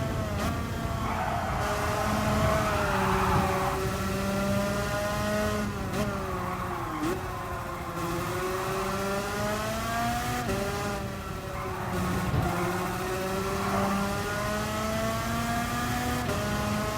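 Race car engines in Gran Turismo Sport rev and hold a steady high whine throughout, rising and falling through gear changes with loud continuous tonal drone.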